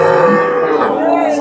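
A cow at a cattle market gives one loud, close, drawn-out moo lasting over a second, a low tonal bellow with a rising tail.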